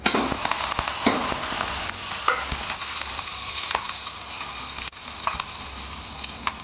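Spices, including mustard seeds and chillies, crackle and sizzle steadily in hot oil close up for a tempering, with occasional clinks of stirring over the continuous hiss.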